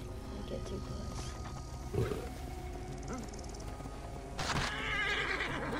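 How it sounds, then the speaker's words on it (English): A lion roars in a video game's wild setting, with horses neighing and hooves clip-clopping nearby, several rough bursts and calls layered over game sounds while a person talks. "I'm trying to save this lion."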